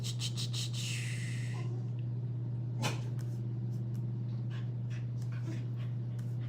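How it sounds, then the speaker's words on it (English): A dog whimpers and pants softly in short bursts over a constant low electrical hum, with a few faint clicks. "Now the dog is crying because Taylor walked out."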